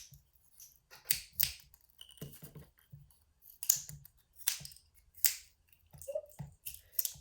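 Scissors snip through pipe cleaners in a string of sharp, crisp cuts, some in quick pairs, close and fairly clear with quiet gaps between.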